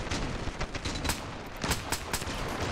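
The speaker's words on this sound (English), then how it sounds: "nail gun." Rapid bursts of nail gun fire in the battle simulator game Ravenfield, a dense string of sharp cracks and thuds layered over distant gunfire and booms from a medieval castle siege.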